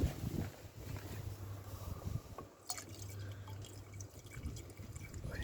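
Water trickling and dripping into the coolant system of an Audi A6 C7 2.0 TDI, a steady close liquid fill with faint wind noise across the mic and no talking.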